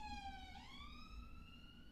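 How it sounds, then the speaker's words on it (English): A siren wails faintly in the distance, its pitch dropping as the vehicle passes, over a low background rumble. "I'll let the siren go past"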